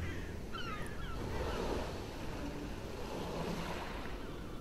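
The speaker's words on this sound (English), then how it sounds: "All around you are the sounds of the seagulls and the water, peaceful" Steady wash of ocean surf rolling onto a beach, a continuous broad rush with wind, and a few faint gull-like cries early on.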